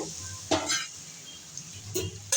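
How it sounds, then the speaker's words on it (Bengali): Spices and potatoes frying in oil in a pan, a steady close sizzle broken by a few sharp stirring scrapes and clinks of a utensil, with no voices. "আমি মশলা ভালো করে চাপা দিয়ে কষিয়ে নেব মশলা দিয়ে তেল ছেড়ে দিয়েছে"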